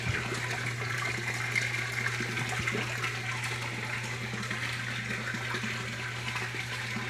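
Water swirling and rushing through a DIY aquaponics swirl filter, a steady close-up churning gush over a constant low pump hum, with no talking.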